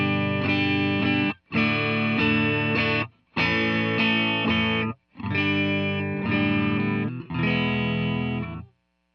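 Electric guitar through a clean Vox amp model in Bias FX plays five sustained, strummed chords in a row, each ringing for about a second and a half with short gaps between.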